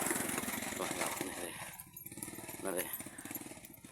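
A motorcycle ridden by a child crosses a rural river bridge in Laos, its small engine droning steadily nearby while someone talks over it.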